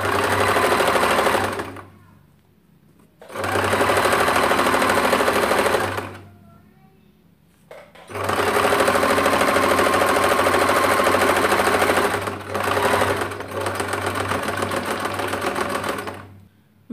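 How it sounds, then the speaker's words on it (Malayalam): Sewing machine running a straight stitch along the folded 1-inch waistband of a churidar pant. Loud, rapid mechanical whirring comes in three or four bursts of a few seconds each, separated by short pauses. "ഒരു സ്ട്രെയിറ്റ് സ്റ്റിച്ച് കൊടുക്കുക."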